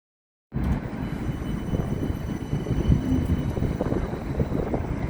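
A tram at Edgbaston Village platform rumbles steadily after a sudden start, a loud, continuous low roar with wind buffeting the microphone and no voices.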